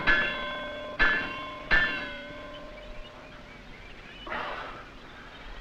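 Three bell strikes ring out at roughly one-second intervals, each clang leaving a long, shimmering metallic decay that fades over a quiet background.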